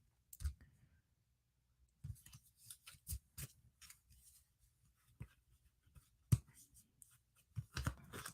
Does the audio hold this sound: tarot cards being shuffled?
yes